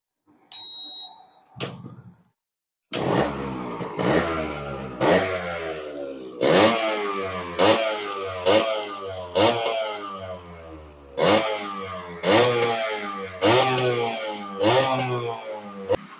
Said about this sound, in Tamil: ஸோ இப்போ இந்த வண்டியோட பீட் சவுண்டு கேட்கலாம்.